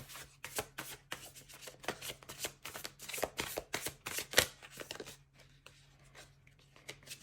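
Tarot cards are shuffled in quick bursts of crisp riffling snaps, a rapid run of close, sharp riffles for about five seconds before tapering into quieter handling.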